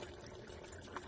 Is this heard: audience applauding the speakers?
no